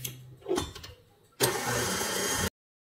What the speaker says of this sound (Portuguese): Tem que ser rápido esse processo aqui e tem que ser na velocidade baixa da batedeira.